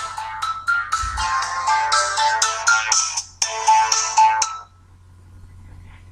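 A phone ringtone plays loudly and close by in a busy melodic pattern of rapid tones for about four seconds, then stops, leaving near silence with no talking.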